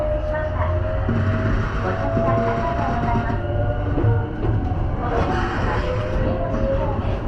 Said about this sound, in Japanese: VVVF インバーターの音が一気に現代へと引き戻す。 東洋電機のインバーター、この音頻繁に聞いていたよな。